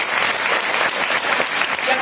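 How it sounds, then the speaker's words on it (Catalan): Audience applause at a Camp Rock Macedònia 2019 meeting, a dense, steady wash of clapping from a crowd that holds at an even, fairly loud level throughout, without any voice rising above it. "que el tenim aquí un aplaudiment"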